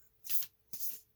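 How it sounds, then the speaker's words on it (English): Two quick, soft shuffles of a thick oracle card deck, the Earth Warriors Oracle, each a short papery rustle close by, with no talking. "if you hold the deck like this and shuffle this way"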